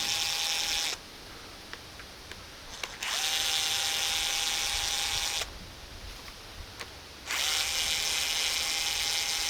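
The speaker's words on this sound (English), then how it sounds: "And now I can take the two halves apart simply by removing about 1 million screws." Electric screwdriver backing screws out of a homemade hex-nut-shooting bow device, three long steady whirring runs with brief pauses between, close and fairly loud with no talking.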